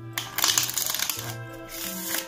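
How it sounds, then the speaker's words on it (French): A deck of playing cards being shuffled by hand for a magic trick, with two bursts of riffling and flicking card noise close up, a brief pause between them, over a steady low background hum. "j'ai un jeu de cartes avec que les cartes différentes bien sûr que je peux mélanger"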